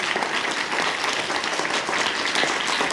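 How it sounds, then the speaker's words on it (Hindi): Schoolchildren clapping loudly together at a school yoga workshop, a dense, energetic burst of applause from a big group, close and continuous. "सभी बच्चे जोरदार ताली बजाएं।"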